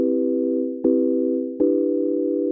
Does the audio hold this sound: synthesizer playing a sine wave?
yes